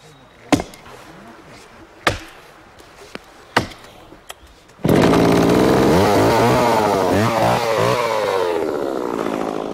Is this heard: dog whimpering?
no